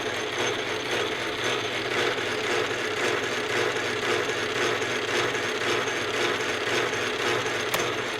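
Old Atlas lathe running with its lead screw turning, a dense continuous mechanical whir and gear chatter with fine ratcheting texture, steady and close throughout.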